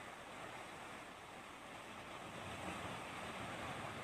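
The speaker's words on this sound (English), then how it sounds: "I hear a lot of water." Waves wash steadily onto a video game beach, a constant broad rush of surf and water without pauses.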